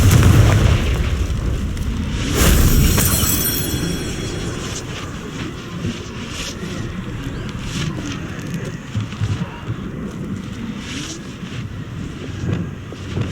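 A Confringo fire spell explodes in the video game Hogwarts Legacy: a loud booming blast near the start, followed by a steady rumbling wash of game noise with scattered crackles.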